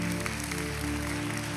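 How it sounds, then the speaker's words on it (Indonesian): Church congregation applauding together, a steady wash of clapping over a low musical drone, loud and continuous for a moment with no voices on top. "tepuk tangannya lebih meriah lagi saudara"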